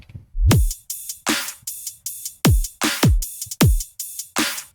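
Punchy electronic drums pound in an aggressive double-time pattern of booming kicks and sharp snare hits, loud and up front, with no voices.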